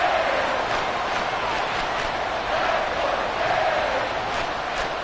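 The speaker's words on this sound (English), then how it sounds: "This crowd doing all they can." A stadium crowd at a Packers football game roars steadily, with a dense, continuous wash of cheering and shouting that stays loud throughout.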